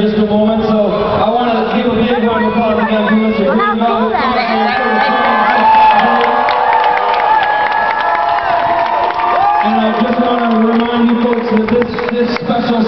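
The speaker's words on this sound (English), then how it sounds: "I want to give a big round of applause again to Mr. Green Mountain." A large outdoor crowd at a house music concert at Jay Pritzker Pavilion cheers and shouts continuously, with whoops and scattered clapping mixed into a loud, busy roar of voices.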